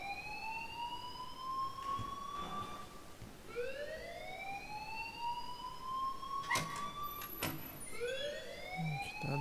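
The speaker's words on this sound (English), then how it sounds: "please turn off that alarm" A rising-and-falling electronic alarm wails repeatedly in Life is Strange, a siren-like sweep that cycles every few seconds, moderately loud with a few sharp clicks near the end.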